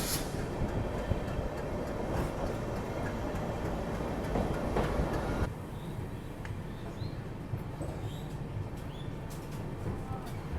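The Delhi–Sairang Rajdhani Express rolls into Malda Town railway station, a steady rumbling clatter of wheels on track that eases somewhat midway, with faint bird chirps above it.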